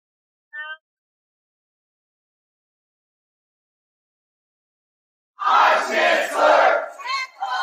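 At a magic tournament arena, a crowd cheers loudly in a sudden roaring surge that swells and dips over a couple of seconds, after a long silence broken only by a brief tonal blip.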